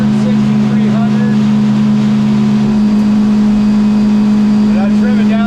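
A 15-foot Stabicraft boat's outboard engine runs at full throttle, loud and close, holding a steady high-pitched drone against the rev limiter with wind and water rush underneath.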